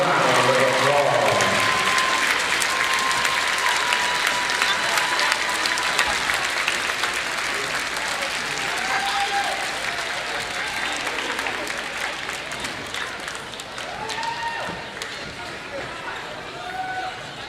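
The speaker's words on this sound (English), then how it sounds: "Let's give all these senior cheerleaders and dance team members a round of applause." A crowd in a high school gym applauds senior cheerleaders and dance team members during a boys varsity basketball game, loud broad clapping and cheering that runs throughout and slowly fades, with scattered voices and squeaks mixed in.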